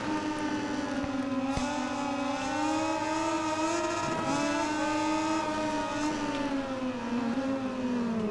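A Moto2 racing motorcycle in the video game MotoGP 2020 screams at high revs, its engine note rising and dipping steadily as it is pushed hard through a race at Qatar.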